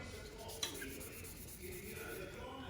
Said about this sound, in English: I'm gonna use this as a sanding block.